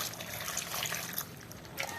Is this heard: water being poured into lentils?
yes